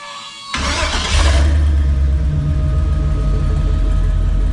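LS-swapped car engine firing for its first startup on old mufflers: a sharp crank catches and jumps into a loud, deep rumbling idle that settles in, close up with no talk.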